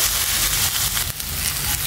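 Beef liver with spinach sizzles steadily in a hot pan while being stirred, a close, continuous hiss and crackle lasting about two seconds.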